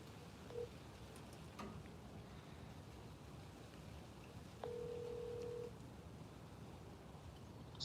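A phone at home sounds a single steady electronic tone lasting about a second, clear and close over a quiet background, with a faint click or two before it and no talk.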